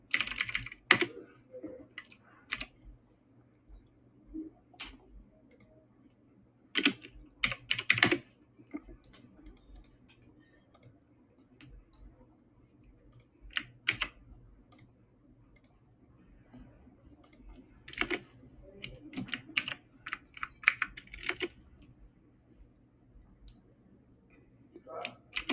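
Someone types on a computer keyboard in irregular bursts of quiet, close clicking, separated by pauses, over a faint steady hum in an indoor room.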